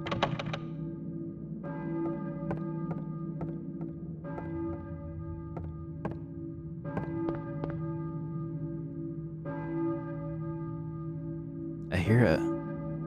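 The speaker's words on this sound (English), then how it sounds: "I hear a church bell, maybe." A church bell tolls in the video game Silent Hill, with repeated resonant strikes at an even, steady pace and long ringing tails, plus a short voice near the end.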